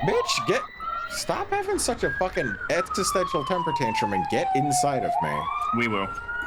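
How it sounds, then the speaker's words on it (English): Emergency sirens outside wail in a long rising and falling sweep, moderately loud beneath a person talking close to the mic. "Sorry about the sirens."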